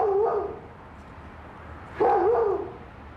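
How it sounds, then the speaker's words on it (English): Dog giving two short whining barks about two seconds apart, moderately close, over a steady low background noise. "The dog's going to get out in a minute"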